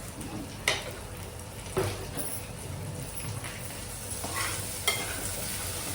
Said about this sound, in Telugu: ఇది ఇక్కడ ఉల్లిపాయ వేగింది కదా